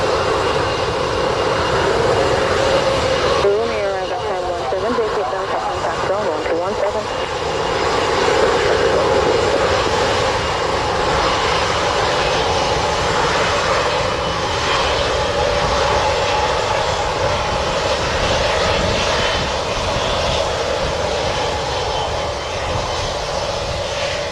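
A Boeing 737-900 airliner takes off from runway 07 at Montego Bay airport in Jamaica, its engines roaring loud and sustained throughout with a rushing, wind-buffeted drone that barely fades.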